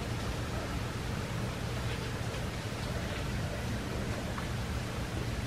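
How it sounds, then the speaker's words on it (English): Heavy rain pouring down outdoors, a steady, dense hiss that fills the whole scene evenly with no breaks, heard alone without talk and with a faint low hum underneath. "I don't know if you guys can hear, but it's literally pouring outside"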